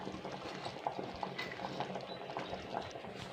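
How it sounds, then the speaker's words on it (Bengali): A pot of korma-style curry simmers at a low boil, producing quiet, irregular bubbling pops and gurgles up close, faint but continuous, with no voices. "এটা 2 মিনিট হোক, 1 মিনিট হোক ফুটিয়ে নেব।"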